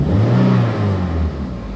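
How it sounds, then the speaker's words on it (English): A Toyota MR2 engine revs up loudly and close by, its pitch rising and holding before dropping back to a steady idle. "So if I just rev, and if you have a look at the sort of rev gauge there, you'll probably hear the revs"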